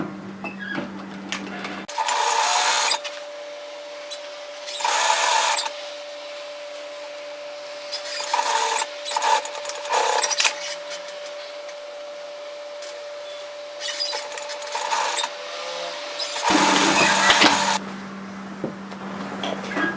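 A sewing machine stitches the pockets of a dress from the bottom up, running in several separate bursts of a few seconds each with quieter pauses between, no voices.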